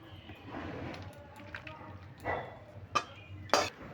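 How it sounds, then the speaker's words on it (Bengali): Cooked ash gourd with bori and poppy seed paste being poured from a pan into a bowl, soft wet scrapes and a few sharp clinks of a spoon against metal, close and fairly quiet. "এবার একটা পাত্রে আমি ঢেলে নিচ্ছি"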